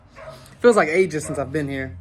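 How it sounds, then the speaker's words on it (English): Dogs barking at home, a few yips and bow-wow barks close by, mixed in with someone talking over them. "excuse the dogs for barking"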